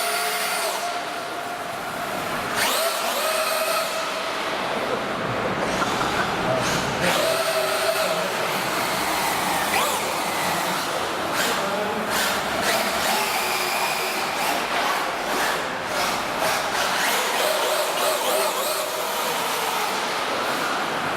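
Traxxas UDR RC truck launching on tarmac, a high electric motor whine with repeated bursts and revs as it accelerates and slows, tires hissing on the road surface, fairly close and steady throughout.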